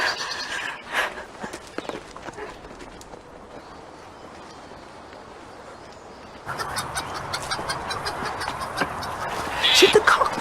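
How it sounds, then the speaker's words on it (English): Chickens and a rooster cluck around a backyard coop, scattered calls that come and go, some near and some farther off, with voices talking at moments and a louder burst of clucking near the end. "Should the cock be in with the chicken?"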